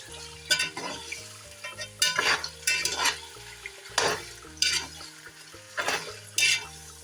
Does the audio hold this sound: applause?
no